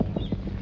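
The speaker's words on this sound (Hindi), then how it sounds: "ये बहुत खूबसूरत घोड़ा है, आप इस पर बैठ जाइए" Horse hooves clip-clopping in a steady walking rhythm, several soft knocks close by, with no talk over them.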